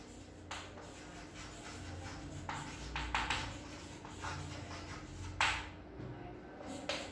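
A pencil scratches on paper while drawing a perpendicular bisector: several short, soft, close strokes and rubs over a quiet room.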